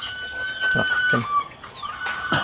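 Black laying hens in a backyard give a few short, separate clucks and squawks close by, with faint voices in the background.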